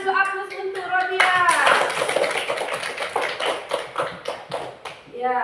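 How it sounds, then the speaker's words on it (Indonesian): An audience claps in applause at a school event on the Pancasila student profile project, with broadband clatter swelling after a brief spoken lead-in and then tapering, while a voice speaks at the start and end. "berikan dulu aplaus untuk Rodia."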